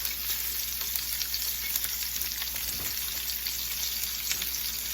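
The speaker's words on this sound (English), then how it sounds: "now this is going to sear for 2 to 4 minutes" Salmon fillets sear in a hot pan, filling the space with a loud, even, close-up sizzle that holds steady throughout with faint crackles and one soft low bump.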